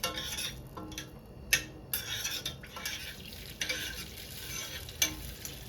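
A spoon stirs oil and a lump of butter melting in a small pot on the stove, with soft sizzling throughout and sharp metallic scrapes and clinks against the pot at irregular moments, close and clear with no voices.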